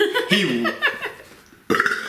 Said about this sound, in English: I'm not even gonna cut that burp out